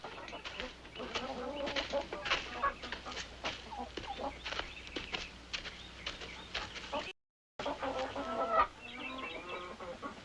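Chickens clucking in a farmyard, a steady stream of close, overlapping clucks and squawks with a brief dropout midway, mixed with other faint ambient activity.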